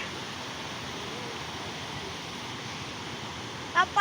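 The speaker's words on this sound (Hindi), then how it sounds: "ये पानी की आवाज़ आपको आ रही है।" River water flows steadily in a rose valley, a continuous broad rushing wash heard close and alone for the whole stretch, with a couple of brief bird chirps near the end.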